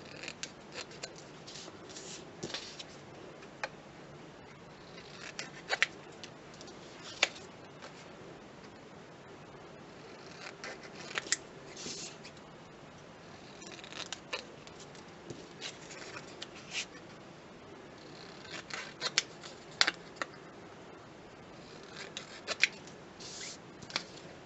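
Scissors snip through material for a teapot project, quiet close cuts in irregular clusters with soft rustling between them and no talking.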